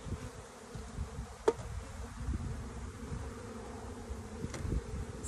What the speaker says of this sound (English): There is a lot of bees in here.